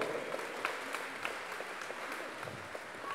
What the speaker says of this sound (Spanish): Que se escuchen esos aplausos, público.